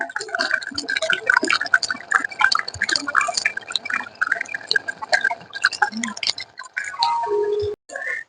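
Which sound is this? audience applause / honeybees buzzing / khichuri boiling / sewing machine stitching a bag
khichuri boiling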